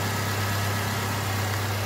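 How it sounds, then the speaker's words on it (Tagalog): A Nissan Sentra engine idles while warming up, a steady low droning hum with a faint vibration and no changes in pitch or level. "Okay guys, na-start na natin. Papainit-initin lang natin para makita natin yung result sa tambuso kung wala nang usok."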